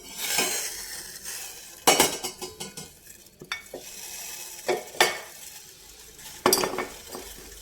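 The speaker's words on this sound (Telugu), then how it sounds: "ఇప్పుడు తాలింపు వేసుకుందాం" Tempering for vaakkaya rasam: oil in a pan with mustard seeds, cumin and fenugreek, a soft sizzle under sharp metallic clinks and stirring scrapes of a spoon against the pot, several distinct knocks spaced through.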